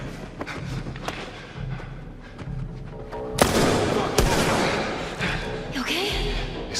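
Turret gunfire in a video game demo shown at an E3 2012 Sony press conference, a burst of sharp, loud shots and booms with a sustained noisy roar, under and between voices.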